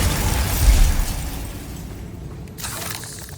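Bombarda blasting spell explodes in Hogwarts Legacy, a loud booming burst with shattering debris that rolls out and fades, with a brief crackle of rubble after.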